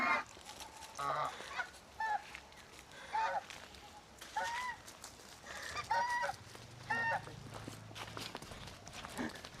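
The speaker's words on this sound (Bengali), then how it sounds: "রাজহাঁস ঘুরে বেড়াচ্ছে," Geese wandering on the grounds of a seaside spot at Baguran Jalpai beach, near a casuarina grove, give a series of short nasal honks spaced a second or two apart, moderately close, over faint outdoor background noise.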